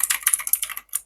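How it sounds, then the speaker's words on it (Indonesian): Rapid keystrokes on a Raiku GK98 mechanical keyboard with blue switches, a close, crisp run of about a dozen sharp clicks in quick irregular rhythm, ending after a brief pause. "Dan ini udah bisa dipakai ngetik ya."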